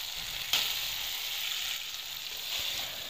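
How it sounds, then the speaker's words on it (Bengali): Spice paste for a Bengali egg curry sizzles steadily in hot oil, a close, continuous frying hiss with a sharp spatter near the start and no voices. "দেখুন আমার মশলাটা প্রায় হয়ে এসেছে ভাজা"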